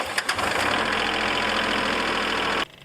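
A Kubota L3901 tractor's diesel engine idles after a coolant flush, a steady close knocking chug that runs evenly and then cuts off abruptly near the end.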